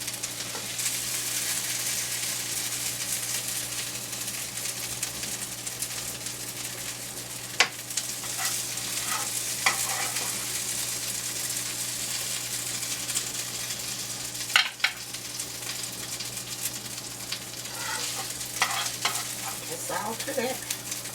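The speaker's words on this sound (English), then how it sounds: "these onions is sauteed enough" Onions sautéing in a pan for beef meatballs with gravy, a steady soft sizzle with occasional stirring scrapes and clinks, close and continuous with no talking.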